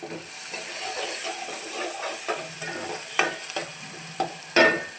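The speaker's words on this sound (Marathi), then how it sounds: "त्याच्यानंतर आपल्याला ठेचा टाकून घ्यायचं आहे छानपैकी आपल्याला हे भाजून द्यायचं आहे" Thecha chili paste roasting in a pan for kadhi, a continuous hissing sizzle broken by several sharp spatula scrapes and stirring knocks toward the end.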